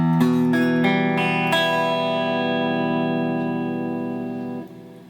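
A single strummed guitar chord with several quick string attacks at the start, then ringing out steadily and slowly fading for about four seconds, played through an effects unit with a touch of distortion and reverb.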